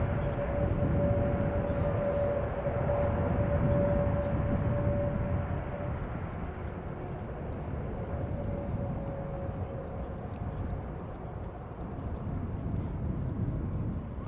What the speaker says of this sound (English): the sound of the winding down of the reversers